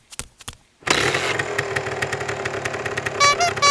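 Ghost Rider motorcycle engine roar from a Marvel Legends Hasbro toy, coming after a few soft clicks: a loud, buzzing rev that holds steady and close, surging slightly toward the end.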